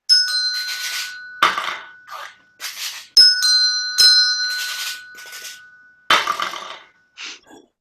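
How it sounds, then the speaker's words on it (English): Short bell strikes from a contemporary ensemble performance, each hit on the bell quickly stopped by hand so it doesn't ring on; a series of bright, clipped metallic tones in irregular rhythm, close and fairly loud, with no talk. "you hit the bell and stop it immediately so it doesn't vibrate"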